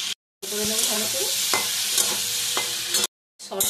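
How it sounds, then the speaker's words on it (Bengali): A mushroom mixture sautés in a wok as a steady, close sizzle with scraping stir strokes. Brief silent gaps break the sound near the start and end. "দিয়ে গরম করে ঢেলে দিয়ে সটে করে নেব।"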